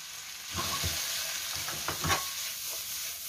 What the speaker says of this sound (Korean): 이렇게 넣고 볶아주세요.